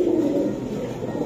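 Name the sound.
Giribaj pigeons cooing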